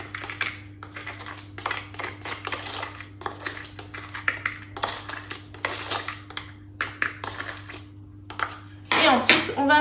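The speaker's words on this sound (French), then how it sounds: "vous mélangez bien le sucre et la pectine" Utensil mixing sugar and pectin in a bowl, a steady run of quick light taps and scrapes over a low electric hum, close by, ending in a louder clatter.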